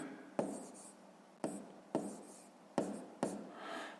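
Pen writing a fifth-grade math exercise solution on paper, a series of five short scratchy strokes, each starting sharply and trailing off, close and quiet.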